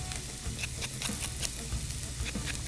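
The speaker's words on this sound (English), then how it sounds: "We've got a hot cast iron skillet here, little olive oil in there, and our onion." Onion frying in a little olive oil in a hot cast iron skillet, a loud close sizzle with bubbling pops and scraping stir sounds throughout.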